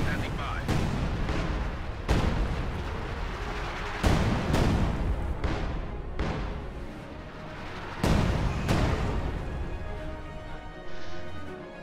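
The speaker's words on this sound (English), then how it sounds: "Su-76s are bombarding the general area as well." Su-76 self-propelled guns shelling an area in a WWII real-time strategy game: repeated heavy booming blasts land every two seconds or so, loud and close, over a continuous rumble of distant gunfire.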